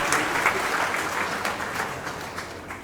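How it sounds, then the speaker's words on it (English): An audience at a university inauguration ceremony claps steadily, a dense, sustained round of applause from a sizable crowd that holds fairly even for about three seconds before easing slightly. "Everybody, another round of applause."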